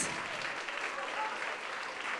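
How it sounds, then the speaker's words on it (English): Dense, steady applause from a crowd fills the whole stretch, loud and continuous without breaks. "applause for that, please"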